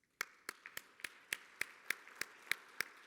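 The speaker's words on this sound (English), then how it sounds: "here I would like to offer a round of applause." Slow, evenly spaced claps ring out one at a time, roughly three per second, crisp and fairly quiet, while a conference audience thanks its sponsors at a food systems forum opening plenary.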